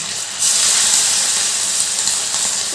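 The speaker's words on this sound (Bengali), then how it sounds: "তেলটা গরম হয়ে গেছে এবার আমি যে মশলা মেখে রেখে দিয়েছিলাম চিকেনগুলো তেলের মধ্যে একটা একটা করে দিয়ে দিচ্ছি" Marinated chicken pieces slide into hot oil for chilli chicken, setting off a sudden loud, hissing sizzle that holds steady and close after the first moment of quiet.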